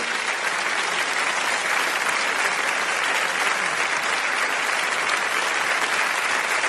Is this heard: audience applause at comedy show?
yes